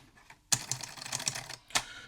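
Keys clatter on the keyboard of an Amstrad ACL-386SX laptop, a 386SX machine running at 20 MHz, in a quick burst of close, crisp typing followed by a single sharp keystroke.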